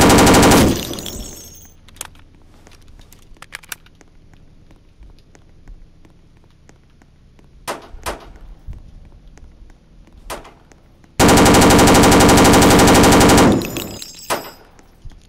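Bursts of automatic gunfire in a Roblox street game, a loud sustained volley at the start and another long burst near the end, with scattered single shots and thuds between.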